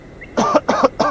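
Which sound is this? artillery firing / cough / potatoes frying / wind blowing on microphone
cough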